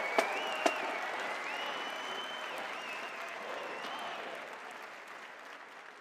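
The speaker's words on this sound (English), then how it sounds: "Another round of applause for Jake Blevins from Middletown, Ohio." Sustained applause from a large crowd at a marching band's pregame performance before a football game, a steady wash of clapping that slowly fades, with a couple of sharp knocks near the start and a faint tonal sound running beneath.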